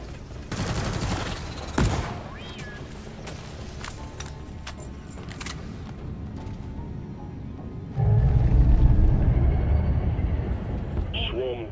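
A deployed sentry gun firing in the co-op shooter Deep Rock Galactic, bursts of rapid automatic shots amid other game noise, growing louder near the end, with voices talking over the action.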